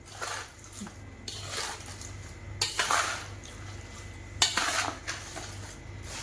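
Chopped raw green mango pieces being mixed with refined oil and homemade pickle masala in a large metal bowl, with repeated wet scraping and clattering against the vessel in short close bursts, and no talking.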